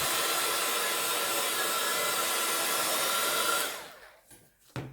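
A hair dryer blows on alcohol inks on a gel plate, a loud, steady whoosh close by that shuts off partway through, followed by a few soft handling bumps.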